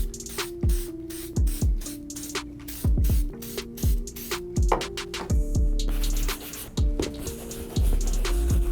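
Repeated short aerosol bursts of mink oil spray hiss close by onto a sneaker, separated by pauses and light clicks of the nozzle.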